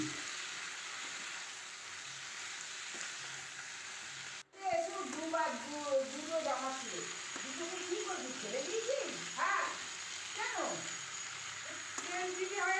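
Chicken stew with tomato being stirred in a hot pan gives a steady sizzling hiss that fades slightly, then a voice talks over the softer frying and scraping.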